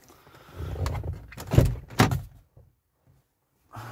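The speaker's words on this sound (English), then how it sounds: "Open all the doors except the lift gate and the hood." Car doors on a Ford Focus Mk1 are worked one after another, giving several solid thunks and clunks with latch rattles, close and fairly loud, then a quiet gap before another thump.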